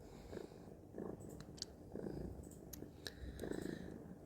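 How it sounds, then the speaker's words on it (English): A house cat purrs close up in a quiet room, giving a soft, low, continuous rumble that swells and eases in a steady rhythm. "his purr."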